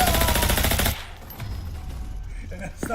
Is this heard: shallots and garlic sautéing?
no